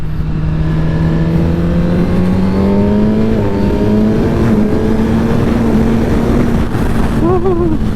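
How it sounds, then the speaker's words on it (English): A Suzuki GSX-R1000R sport bike on the freeway under light throttle: a steady, loud engine drone whose pitch climbs slowly, then a brief wobble near the end, with wind roar throughout. "So I'll keep it under 7 and I'll just throttle it a bit."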